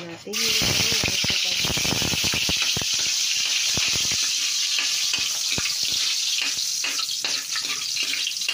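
Vegetables fry in hot cooking oil in a pan, a steady close sizzle with crackling pops throughout, loudest at the start and settling into a constant hiss.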